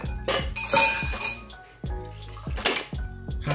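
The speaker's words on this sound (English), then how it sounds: "Ice cubes." Ice cubes clatter and clink into a metal cocktail shaker for a Long Island iced tea, a series of sharp, bright knocks and rattles in several close bursts, with no talking.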